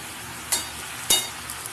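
A vegetable curry with water spinach is turned over in a wok, two sharp scraping strokes cutting through a low, steady sizzle.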